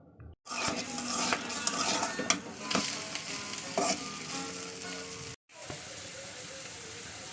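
An egg fries in a pan, a close bright sizzle with sputtering pops and occasional utensil scrapes, broken by two brief silent cuts, no speech.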